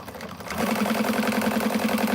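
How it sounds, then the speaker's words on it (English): Sewing machine running steadily while topstitching a lining, a rapid, even mechanical whir that starts after a brief pause and holds close and loud. "let's top stitch to this guy, and let's get it sewn onto the lining"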